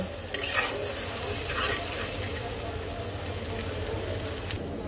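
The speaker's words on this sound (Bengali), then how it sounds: "মশলাটাকে তেলের সাথে একটু মিক্স করে দিলাম।" Spice paste stirred into hot oil in a pan, giving a continuous close sizzle with a soft scraping of the spoon running through it, fairly even in level.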